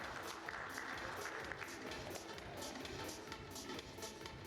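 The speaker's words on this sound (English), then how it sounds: "Can we have a huge round of applause" A conference crowd at a food industry summit gives a steady, even round of applause, dense and fairly faint, as if heard from a distance.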